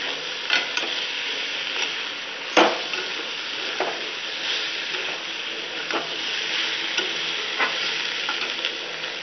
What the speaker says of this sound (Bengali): দিয়ে ভালো করে মিশিয়ে নেব।